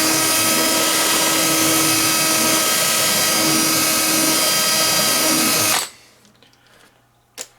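A power drill spins an arrow shaft against a bastard file, a loud, steady high-pitched whine that cuts off abruptly near the end, leaving faint handling noises.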